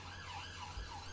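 A police siren from the city-building video game Cities Skylines wails in a steady, rising and falling tone, fairly faint and continuous over a low background hum, with no talk.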